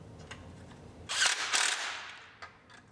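A module being bolted into a 2013 Buick Enclave AWD under rebuild: a short burst of whirring ratchet or power-tool driving stands out between faint clicks and handling noises, with no talking.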